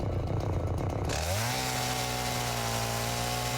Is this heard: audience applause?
no